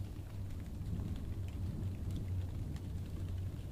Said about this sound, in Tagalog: Habang bumubuhos ang ulan